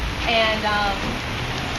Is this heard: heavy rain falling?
yes